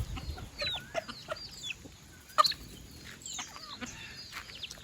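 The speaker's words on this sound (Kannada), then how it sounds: "ನನ್ನ ಹತ್ರ ಇರುವಂಥ ಇಷ್ಟು ಹುಂಜಗಳು ಕೂಡ ನಾನು ಮರಿ ಮಾಡಿಸಿರುವಂಥ ಹುಂಜಗಳೇ" Home-bred country roosters, one of them three years old, cluck and chirp in scattered, fairly faint calls, with a sharper squawk midway through, over a steady outdoor background hiss.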